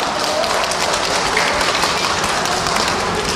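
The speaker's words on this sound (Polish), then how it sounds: "a my na dobry początek powitajmy gorącymi brawami" A crowd applauds steadily and loudly for a kindergarten group taking the stage, a dense wash of many hands clapping without letup.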